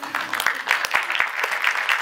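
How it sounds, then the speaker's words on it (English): An audience applauding speakers, a brief burst of scattered, fairly sparse claps with sharp individual hits over a light background murmur. "round of applause for you guys"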